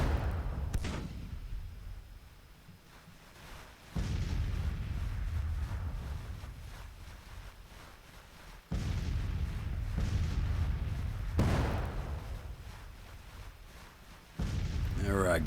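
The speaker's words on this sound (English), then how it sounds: "I know they can still see him if the artillery's firing at him" Artillery fire in a Grand Tactician: The Civil War battle at Winchester: three heavy booming blasts at intervals, each followed by a long rumbling decay, with no talk over them.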